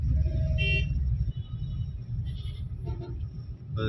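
Busy street traffic in Bangladesh with a goat riding on a rickshaw: a steady low engine rumble, a short bright honk or bleat near the start, and further brief calls and horn toots later.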